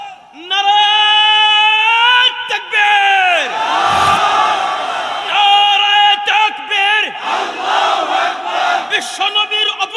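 A large crowd at an outdoor religious sermon gathering roars a long takbir chant in unison, loud sustained voices rising and falling in repeated waves of shouting.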